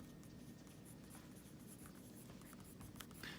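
Faint pen scratching on a card used to label elongated coins from a Star Trader machine at Disneyland, a quiet, steady scrape with a few light taps in a hushed room.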